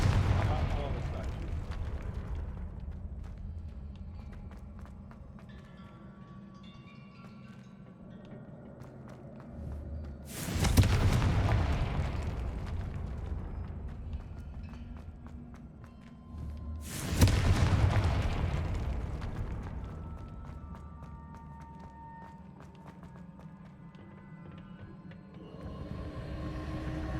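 In a video game, Confringo blasting spells smash into statues with two heavy, booming explosions about six seconds apart. Each blast trails off in a rumbling decay over a low ambient background.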